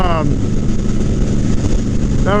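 Suzuki C90T motorcycle cruising at about 75 mph on a highway: a loud, steady engine drone buried in heavy wind buffeting, with a brief rising whine at the start and end.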